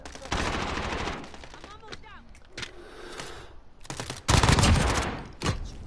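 Automatic gunfire from an MP5 in Call of Duty Modern Warfare rattles in loud bursts separated by quieter gaps, with a voice talking faintly between volleys.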